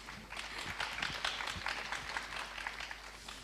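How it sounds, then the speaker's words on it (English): Faint, dense patter of audience clapping welcoming a late guest at a panel on two-wheel mobility services, steady and fairly distant, with no voices over it. "you can give him a big round of applause."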